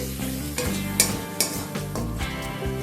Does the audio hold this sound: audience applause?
no